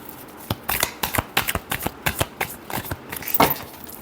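Tarot cards are shuffled by hand in a quick run of crisp, riffling slaps and flutters. They are close and fairly quiet with no talking, and the strokes come in an uneven rhythm over about four seconds.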